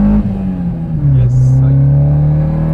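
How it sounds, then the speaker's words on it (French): A Peugeot 206 S16 GTI with the 2.0 16V engine pulls hard from inside the cabin, its intake droning and resonating loudly and steadily as it accelerates, with a slight pitch dip partway through. "On entend bien l'admission qui résonne maintenant."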